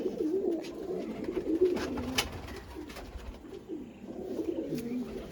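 Old pigeons at a show and sale coo in a steady low murmur, several birds close together, with a few faint clicks and no voices.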